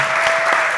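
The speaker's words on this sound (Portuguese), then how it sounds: "Palmas para ele!" Applause from an audience at a film event honoring a short-film programmer, a dense, steady wash of clapping filling the whole short moment with no voices.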